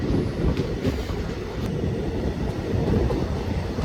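Vanchinad Express passenger train running steadily after pulling out of Kottayam, a continuous low rumble of wheels and carriages with faint clickety-clack, close and loud with no talk.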